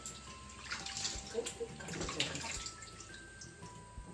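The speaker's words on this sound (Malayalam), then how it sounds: "രണ്ട് മൂന്ന് വെള്ളത്തിൽ കഴുകാം നല്ല അഴുക്കുണ്ട് നല്ലപോലെ കഴുകിയെടുക്കണം" Water sloshes and splashes in a basin as sweet potatoes are rinsed by hand, with small drips and clunks, close and fairly quiet.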